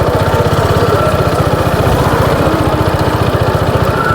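A motorcycle idles close and loud just before being parked, its engine keeping up a steady, even low putter of firing pulses with no talk.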